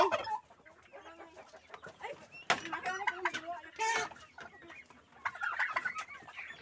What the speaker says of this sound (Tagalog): nagbabahog si nanay ng manok